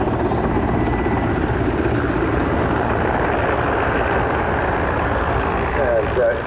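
Mil Mi-171 and Mi-24 helicopters fly a face-to-face 360-degree rotation at an airshow, their rotors and engines making a steady, loud, dense thudding roar, with a commentator talking over it.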